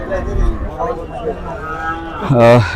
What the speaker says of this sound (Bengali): এগুলো হচ্ছে বড় গরু